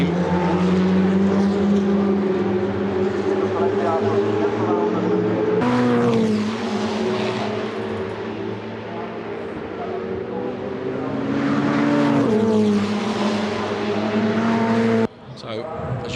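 Ferrari Challenge race cars lapping at Monza in a Trofeo Pirelli race, high-pitched engines rising and falling as cars rush past one after another, with a commentator talking over them.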